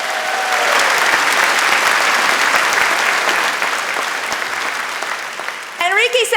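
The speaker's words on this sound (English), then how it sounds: "Give Enrique a round of applause." An audience applauds a graduating student named Enrique, a dense, steady roar of clapping that holds for about six seconds, then fades slightly before some brief voices break in at the end.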